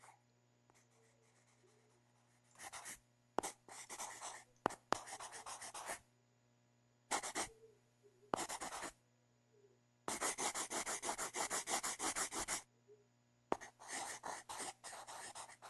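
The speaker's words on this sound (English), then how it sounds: "Who the fuck is scribbling on paper?" Pen scribbling on paper comes in irregular scratchy bursts, short strokes and one long sustained stretch, close and fairly quiet against a low steady hum, with silent gaps between.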